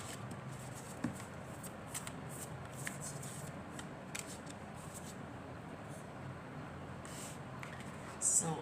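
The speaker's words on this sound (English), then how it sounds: "now let's shuffle this deck" A deck of tarot cards is shuffled by hand in a quiet room, producing faint, repeated riffling bursts and soft card slaps in an uneven rhythm, ending with a slightly louder burst.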